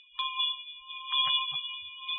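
A bell rings with clear sustained tones, struck once near the start and again with a few softer strikes, its ringing holding steady throughout in a quiet, clean setting with no voices.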